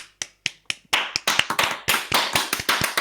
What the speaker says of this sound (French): Georges numéro 4, applaudissements.